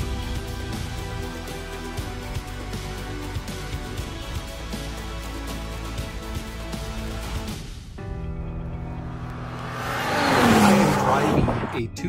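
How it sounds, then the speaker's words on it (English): A 2005 Bentley Continental GT with its W16 engine drives along, a steady engine drone under the cabin, then a louder rushing swell toward the end; voices talk over it. "2005 Bentley Continental GT. It's got the W16"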